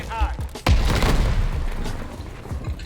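A single close, loud explosion bursts in Call of Duty: Vanguard and trails off into a rumbling decay, with someone talking before it.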